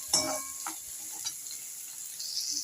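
Onions with ginger-garlic paste ground with fennel and pepper are sautéed in a pan for a pea fry, giving a steady sizzle with a few scraping stirs near the start and middle, fairly faint and with no talk.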